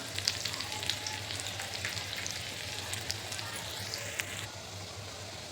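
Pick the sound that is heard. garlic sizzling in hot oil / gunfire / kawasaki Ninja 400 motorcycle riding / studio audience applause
garlic sizzling in hot oil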